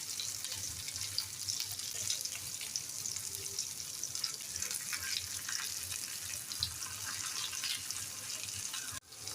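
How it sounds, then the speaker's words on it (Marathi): Pieces of ravas fish coated in gram flour and rice flour frying in oil in a pan, giving a steady, soft, continuous sizzle with no talking. "आपण 3-4 मिनिटं एका बाजूला फ्राय करून घेऊया।"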